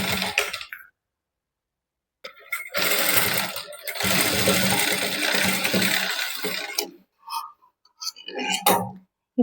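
A sewing machine stitching a blouse runs in bursts: a short whir, a pause, then a longer steady mechanical buzz of several seconds, followed by small clicks and taps of handling.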